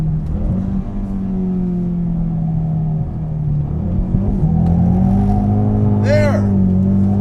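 Sports car accelerating hard with a clutch kick in second gear, a loud close engine drone that dips, then rises in pitch as revs climb, with a brief chirp near the end and a voice talking over it.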